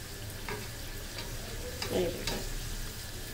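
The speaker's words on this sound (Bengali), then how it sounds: "এইভাবে আমি সবগুলো এখন ভেজে নিচ্ছি। এই দেখুন এটাও ফুলে উঠছে।" Puris, stuffed with potato, sizzle and puff up in hot oil, a steady crackling fry with occasional stirring and bubbling bursts, close and continuous.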